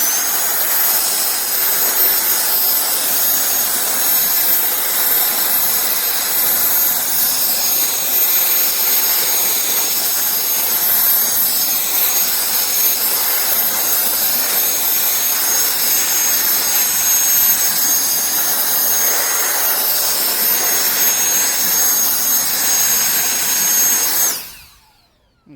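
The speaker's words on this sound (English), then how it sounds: "Let me grab my blower and we'll check that out." A handheld blower roars steadily for over twenty seconds, drying a car wheel after a wash, loud and continuous at close range before cutting off abruptly at the end.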